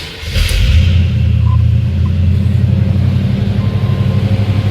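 A 1979 Chevrolet Corvette with 84,000 miles starts cold and settles into a steady, loud, rumbling high idle, the low engine throb continuous and close throughout.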